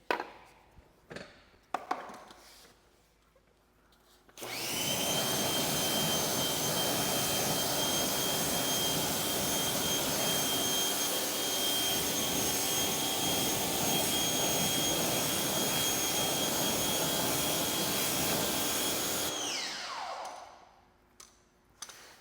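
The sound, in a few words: rinsing car wheel with pressure washer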